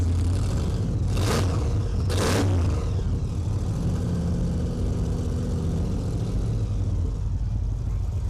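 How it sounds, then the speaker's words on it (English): Restored vintage truck engine in a holiday parade, a steady low rumble with revving that runs through the clip, alongside crowd noise and two sharp bursts near the start. "It's a great truck. I think we're gonna get some noise here."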